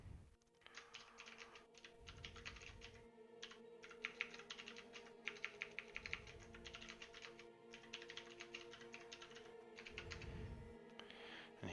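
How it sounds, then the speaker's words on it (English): Fast, steady typing on a computer keyboard during a game, with quiet, close clicking keystrokes repeating continuously beneath a low background hum. "he's gonna get a taste of my bad keyboard there because I typed a few extra letters for no apparent reason"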